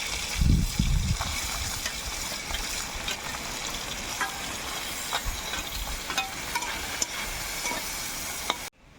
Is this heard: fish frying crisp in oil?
yes